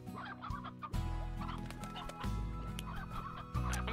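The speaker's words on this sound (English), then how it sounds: "Ooh, look at all these chickens in here." Chickens in a video game cluck close and loud in repeated bursts, layered over a steady tonal backdrop that cuts in and out.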